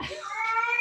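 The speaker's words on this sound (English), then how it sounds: "We have a cat that's actually deaf, and so yeah, he's very loud." A deaf cat meows loudly and close, one long drawn-out wail with a rising, strained tone that holds steady to the end, alone with no talk over it.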